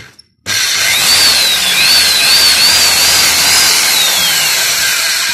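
An electric demolition hammer running after a switch repair, starting abruptly and then roaring loud and steady at close range, with a fluctuating whine riding over the harsh mechanical noise and no speech.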